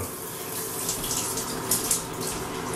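Water from a shower runs steadily in a continuous hiss and splash, fairly close and even, with a few brief louder spatters and no talking.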